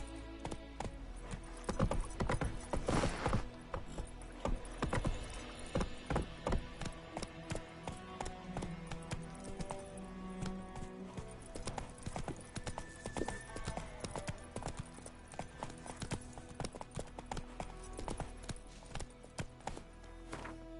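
The horse Roach galloping in The Witcher 3 game, rapid rhythmic clip-clop of hooves running steadily and close throughout with no speech.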